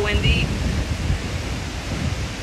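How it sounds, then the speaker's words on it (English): Heavy rain driven by strong wind roars as a steady, dense wash of noise throughout, with a short whistling gust near the start and a faint voice barely present underneath. "it literally is raining so hard and so windy"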